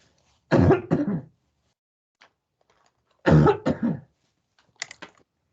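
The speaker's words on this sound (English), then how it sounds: "I'm going to cough" Two bursts of harsh coughing and throat clearing, each a quick double hack, separated by quiet pauses, with a softer throat noise near the end.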